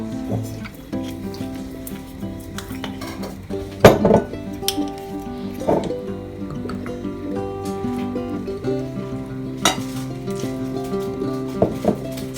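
A spoon stirs a tomato bruschetta topping with balsamic vinegar in a bowl, making irregular clinks and scrapes, one sharp knock and some soft wet mixing noises, close by with no speech.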